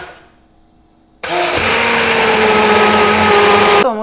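An electric mixer whips batter, switching on abruptly after a faint quiet stretch and holding a loud, steady whirring drone for a few seconds before cutting off.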